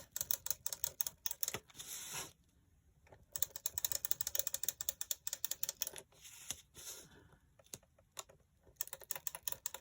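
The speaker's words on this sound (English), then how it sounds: "We will go ahead and use the tape gun." A tape gun dispenses packing tape while a paper journal is assembled, giving a quick series of ratcheting, clicking rasps in bursts with brief pauses, close and fairly loud, with no talking.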